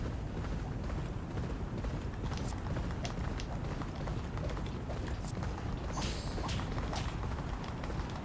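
Horse hooves pound in a fast, continuous gallop during a race in the video game Champion Jockey, a steady rumbling drum of hoofbeats with occasional sharper clicks layered over it.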